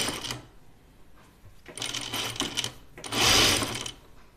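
A sewing machine stitches a quarter-inch seam on a shirtdress in three short bursts of rapid needle chatter separated by pauses, the last run loudest, close up and with no talking.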